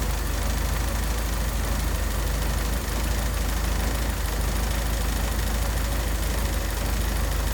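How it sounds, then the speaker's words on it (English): A 1968 Triumph Herald idles with its bonnet rattling, a dense, constant mechanical clatter over the engine's low hum, heard up close with no voices. "The noise that you're hearing is the bonnet."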